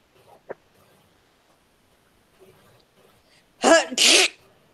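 A sharp, close sneeze bursting out in two quick parts after a faint sniff and near-silence, loud against the quiet room.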